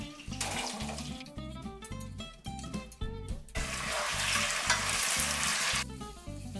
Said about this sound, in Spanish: voy a poner aquí la cucharada de mantequilla, chorrito generoso de aceite de oliva y comenzaremos salteando las papas